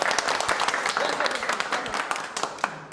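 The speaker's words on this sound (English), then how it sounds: "Clap for everyone." A roomful of people applauds together, a steady patter of many hands clapping close by, moderately loud, with a few voices mixed into the clapping.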